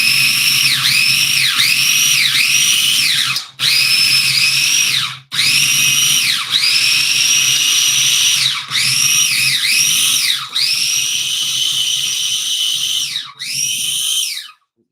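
Kitchen appliance blades grinding food for a Christmas beef Wellington, a loud whining motor that pulses in repeated rising and falling cycles, stopping briefly several times, close and alone.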